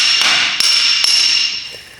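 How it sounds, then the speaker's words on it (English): A Grimmspeed V2 J-pipe is hammered onto a Subaru WRX, giving three sharp metallic strikes about half a second apart over a bright, ringing, steady background, with no talking. "I'm hammering it, and my hands are hurting"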